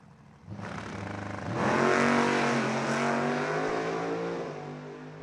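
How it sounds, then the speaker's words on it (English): A nostalgia drag race car at the ANRA Summer Nationals launches and roars down the track, a loud sustained engine blast that surges near the start and holds steady for several seconds. "Now he'll roll up and take his shot at the track."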